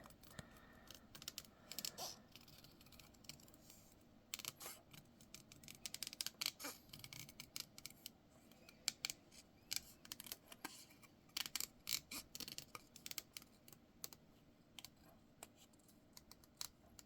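Scissors snipping out the legs of a paper clown craft, a close run of sharp irregular clicks and cuts that bunch into quick bursts with short pauses between, no talking over them.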